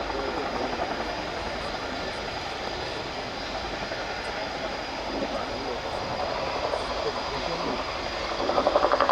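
An RAF Chinook helicopter hovers at the Royal International Air Tattoo 2019, its steady, distant rotor drone and engine whine continuing throughout while a commentator talks over it.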